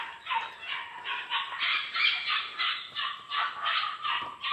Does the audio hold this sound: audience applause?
no